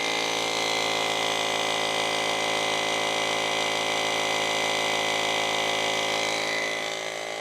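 An ASPERX AX160 tyre inflator air compressor runs continuously while pumping up a tyre, a loud, steady mechanical whine and buzz with a fixed tonal hum, close by and alone, easing slightly near the end.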